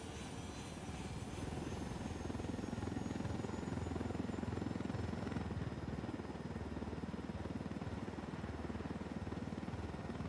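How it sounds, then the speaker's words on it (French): Helicopter flying in the video game Ghost Recon Wildlands, a steady loud rotor thump and engine drone that holds evenly throughout with no talk. "on leur vole l'hélicoptère, on se barre."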